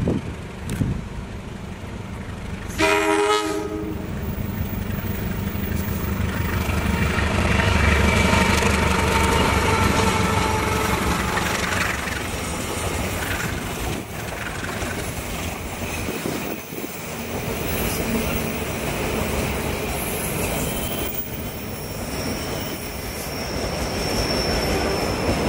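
The Joglo Semarkerto passenger train runs through Central Java, passing close with a sustained rolling rumble and brief wheel squeal early on, then fading to a steady distant roar.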